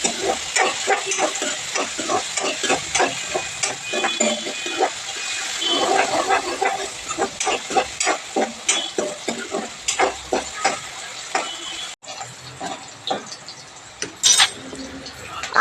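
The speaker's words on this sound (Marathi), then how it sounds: "कांदा देखील चांगल्या रंगावरती परतून घ्यायचा आहे" A medium-large chopped onion is sautéed in oil in a pan, with a continuous sizzle broken by quick, rhythmic scraping strokes of a spatula stirring it close by.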